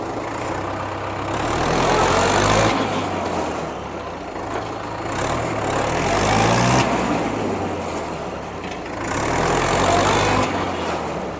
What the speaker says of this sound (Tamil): இன்ஜினோட பவர் வந்து நம்ம த்ராட்டில் கொடுக்குறப்பவே நல்ல ரெஸ்பான்ஸ் இருக்குதுங்க